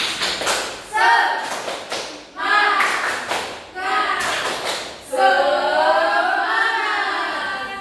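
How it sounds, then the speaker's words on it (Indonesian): A school class performs the "tepuk semangat" clapping chant, groups of sharp hand claps alternating with children's voices chanting in rhythm, loud and close, ending in a sustained sung phrase. "Biar lebih semangat kita tepuk semangat dulu"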